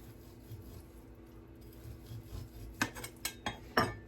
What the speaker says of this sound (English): I'm just cutting these up so they're going to cook in their own juices in the canner